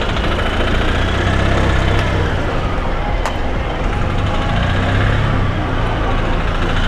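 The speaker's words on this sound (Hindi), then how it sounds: "ये गाड़ी है, ट्रैक्टर।" A tractor engine idles loudly and steadily at a busy vegetable market, with a constant low rumble and voices in the background.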